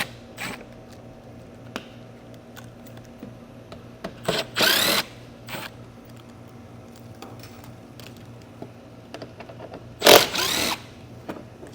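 Power tool backing out 8mm head fasteners from the wheel well liner of a 2022 Jeep Grand Cherokee WL, heard as two short loud whirring bursts with faint clicks and creaks between them.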